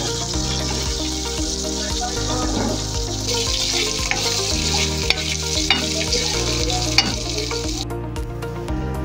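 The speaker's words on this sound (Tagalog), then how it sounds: "Igisa tayo ng alaing na ito'y half kilo nga pork with bawang ken sibuyas" Half a kilo of pork sautéing with garlic and onion, a steady close hiss of frying under continuous stirring and scraping in the pan, with a few sharp utensil clicks; the sizzle stays loud and even throughout.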